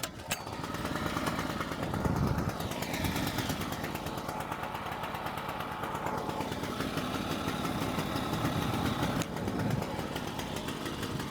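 A repaired 230-volt portable generator engine runs steadily in the field, a continuous loud mechanical drone with a rapid firing rhythm that holds its level for the whole stretch.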